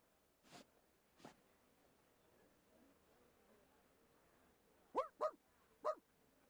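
A dog in the video game Reverse: 1999 gives two faint isolated yips, then a quick burst of three sharp barks against a quiet room tone.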